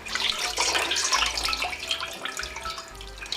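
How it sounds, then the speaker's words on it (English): Hot water splashes as it is poured off from a pot while a chicken is being prepared, a close, continuous gushing and trickling with no voices. "Pour some of the water off."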